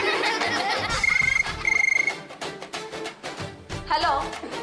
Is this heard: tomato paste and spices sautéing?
no